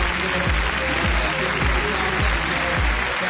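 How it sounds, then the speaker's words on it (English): Sustained applause from a crowd, steady and dense clapping throughout, with a few heavier low thumps recurring underneath. "Let's give Mrs. Rosa Parks a round of applause"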